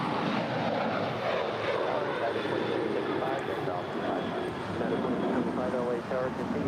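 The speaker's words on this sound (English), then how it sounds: "We're looking at WestJet flight 1422 about to land there on the north side coming in from Edmonton" A WestJet Boeing 737-800 landing on the north side at LAX, arriving from Edmonton, gives a broad, steady jet roar that stays fairly loud and even throughout, with a voice talking over it.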